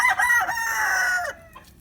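A White Crested Polish standard-size rooster gives one loud, close crow, a drawn-out call of almost two seconds, among chickens outdoors in melting snow.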